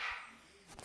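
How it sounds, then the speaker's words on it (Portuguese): A couple of barks from dogs in a Minecraft game at night, short and fairly faint, with a quick burst near the end of the brief moment. "Esse cachorro tá tudo latindo aqui."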